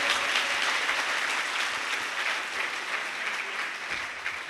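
Church congregation applauding loudly and steadily for a visiting sister preacher, a dense, continuous wash of clapping that stays full throughout with no talk over it.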